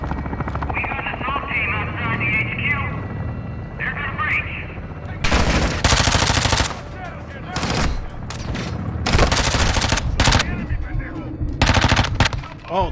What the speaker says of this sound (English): I'm shooting the wrong guy.